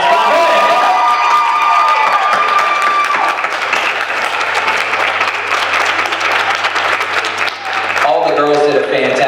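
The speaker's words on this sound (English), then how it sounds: "Let's keep clapping so the girls are not the only ones." A loud pageant crowd claps and cheers for the contestants, with sustained dense applause, whoops and shouting filling the space, and a voice speaking over the noise.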